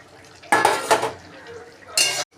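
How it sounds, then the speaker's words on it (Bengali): Fried bhola fish pieces drop one at a time into a pot of curry, with clattering pot and utensil knocks and a soft simmer between them, close and without talk. "এক এক করে ভাজা মাছগুলো দিয়ে দেবো।"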